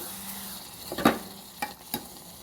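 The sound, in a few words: stirring and sautéing coconut chutney mixture in pan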